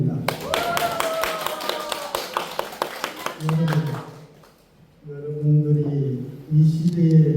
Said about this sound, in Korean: 심심한 이로와 뜨거운 격려의 박수 드립니다